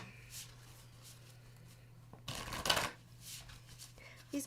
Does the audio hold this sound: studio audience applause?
no